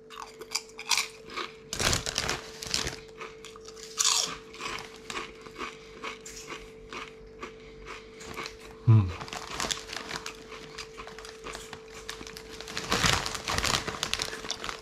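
Crinkling and crunching of a Lay's chips bag in a flavour taste test, irregular plastic rustles and crackles close to the microphone alongside chewing crunches, with a steady electrical hum underneath.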